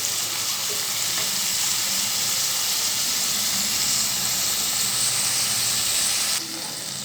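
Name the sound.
chopped onions sautéing in a pan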